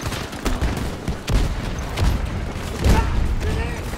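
Gunfire in Battlefield 2042: a string of sharp, loud shots fires at an uneven pace, with explosive thuds mixed in, under a voice talking throughout.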